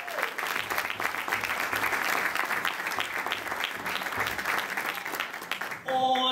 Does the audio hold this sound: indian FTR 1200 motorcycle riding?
no